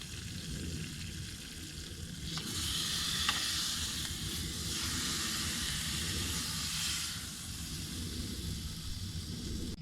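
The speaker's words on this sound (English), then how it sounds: "we are just searing up the sides" Seasoned meat, cooked medium rare, searing in a hot pan at a swamp campsite with a loud, steady hiss that swells midway and continues without talk.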